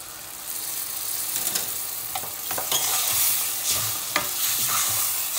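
Ground tomato is poured into a frying okra curry base, raising a bright, steady hiss of sizzling oil with a few scraping stirs and clinks, close and continuous, no voices.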